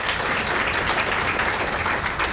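Audience at a retirement reception gives a round of applause, steady dense clapping that fills the room, heard at moderate volume without speech.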